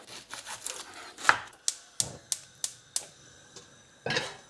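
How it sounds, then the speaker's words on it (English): Two red onions are finely chopped with a knife on a board: a close series of crisp, evenly spaced knife taps over a quiet background, with a brief rustle before and after. "I'm going to use red onions, but you can use white onions, pink onions, any onions you like or have at home. And I'm going to finely chop this up"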